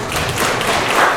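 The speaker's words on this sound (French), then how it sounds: "Est-ce qu'on peut l'applaudir s'il vous plaît?" Audience applause for a volunteer at a talk, a short burst of dense, steady clapping from a crowd filling the whole moment.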